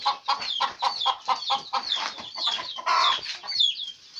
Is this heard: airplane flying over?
no